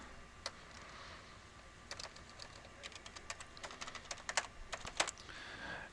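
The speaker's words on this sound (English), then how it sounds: "Make sure I type this in right." Quiet, steady typing on a computer keyboard, irregular clusters of soft key clicks building to a faster burst with a few sharper taps, alone with no voices.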